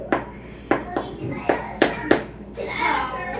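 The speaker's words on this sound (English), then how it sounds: "when you kind of flick at it, it has kind of a hollow sound" Fingers flick the crust of a freshly baked sourdough sandwich loaf, giving six crisp, hollow knocks at an even, unhurried pace, close and clear, followed by a brief rustle.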